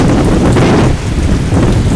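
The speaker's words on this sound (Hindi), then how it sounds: "बहुत भारी बारिश हो रही है" Heavy rain lashes down with strong gusting wind during Cyclone Biparjoy on the Gujarat coast, a loud, dense, continuous roar with no break and no voices.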